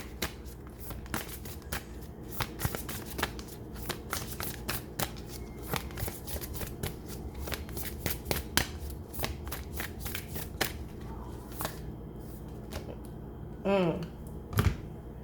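Oracle cards are shuffled by hand in a quick series of crisp riffles and soft slaps, close and fairly quiet, with a few louder taps near the end.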